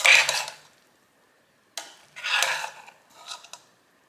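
A spoon scrapes and clinks through rice in a pot of lamb pulao, one short burst of stirring, a pause of over a second, then two more bursts of scraping, close and moderately loud.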